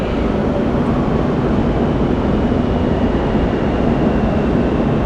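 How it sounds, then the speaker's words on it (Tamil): A bullet train roars past at a railway station in a steady, loud broadband rush that persists evenly throughout. "bullet train"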